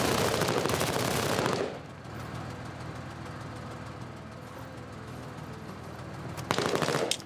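Rapid automatic gunfire crackles in bursts in a shooter video game, loud at the start and end with a quieter stretch of distant shots and rumble between.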